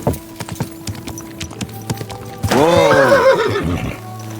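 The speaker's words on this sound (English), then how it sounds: "Easy, good horse." A loud horse whinny in the video game Kingdom Come: Deliverance 2 rises and wavers after a few soft hoof clops, close and prominent.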